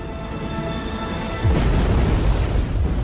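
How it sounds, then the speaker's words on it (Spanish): A deep, heavy boom of a submarine explosion erupts partway through, followed by a sustained low rumble over a steady background hum. "Se produjeron dos explosiones de tal magnitud que se registraron en Alaska"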